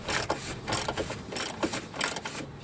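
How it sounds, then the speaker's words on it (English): A ratchet tightens a grounding bolt on the body of a Toyota RAV4 with about five quick, rhythmic bursts of sharp metallic clicks, close and clear. "right now we will tighten the bolt"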